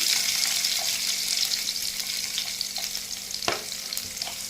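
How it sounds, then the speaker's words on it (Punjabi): Garlic sizzles gently in a pan of oil with already toasted cumin in a Punjabi home kitchen, a soft steady crackle with a light clink of a utensil partway through and no voices. "ਜੀਰਾ ਵੀ ਸਾਡਾ ਭੁੱਜ ਗਿਆ ਹੈ ਤੇ ਹੁਣ ਇਹ ਪਾ ਦਿੰਦੇ ਅਸੀਂ ਲਸਣ"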